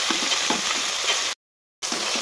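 Ginger, garlic and onion paste frying in a pan with salt and turmeric for a rui fish kaliya, giving a steady close sizzle with soft stirring scrapes, cut by a short silent gap before resuming.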